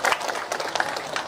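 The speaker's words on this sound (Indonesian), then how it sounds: "Tepuk tangan kau Pak Camat." An audience at a Sumedang government gathering claps for the sub-district head in a brief, dense burst of many hands clapping together at close range, with no talk over it.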